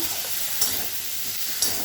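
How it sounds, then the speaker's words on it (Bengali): Spiced paste frying in oil in a wok for a vegetarian paneer curry, a steady close sizzle with a couple of sharp stirring scrapes, no voices. "কড়াই থেকে তেল ছেড়ে দিয়েছে, মশলা কষানো হয়ে গেছে"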